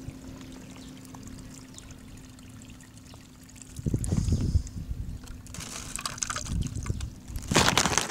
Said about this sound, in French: Puis on crisse notre eau là-dedans.